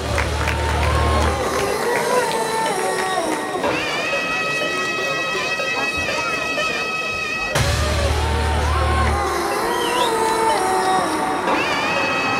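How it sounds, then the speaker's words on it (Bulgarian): A crowd at a Muay Thai fight applauds and cheers loudly and steadily in a boxing arena, the noise filling the hall throughout with a brief break partway before swelling again. "Уважаема публика, вашите аплодисменти за състезателят от червеният ъгъл Георги Спасов."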